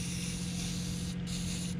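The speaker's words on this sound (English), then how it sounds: "Spray the top. Just make sure it's covered good." White spray paint hissing from an aerosol can onto a homemade silhouette goose decoy, one continuous close, loud spray with a brief pause or two near the end, no voices.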